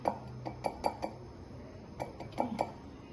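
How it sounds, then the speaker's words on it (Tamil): Chocolate-dipped baklava tapped against a bowl rim to shake off excess chocolate, producing a series of light, close clinking taps in two quick bursts. "டிப் பண்ணி இப்படி தட்டிக்கலாம்"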